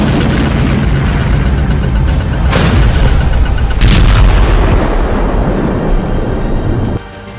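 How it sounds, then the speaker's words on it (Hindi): Loud, continuous rumbling blasts from a missile and drone strike on Kyiv, with heavy booms and a sharp crack near the middle, filling the whole stretch without any voices. "ड्रोन से दागी गई मिसाइल के धमाके से जेलेंस्की का पैलेस भी दहल गया है।"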